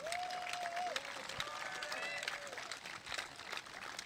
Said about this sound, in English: let's give Corey Morgan a great round of applause,